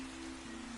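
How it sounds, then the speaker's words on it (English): Rain falls steadily at night in the video game FANTASIAN Neo Dimension, a faint, even hiss of drops with a low steady hum beneath and no voices. "This night it rained, and the cold and wet was not good for the old man's health."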